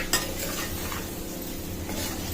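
Jackfruit biryani pieces being stirred in a pot, a steady soft scraping and shuffling with a faint sizzle underneath, close and fairly quiet, no voices.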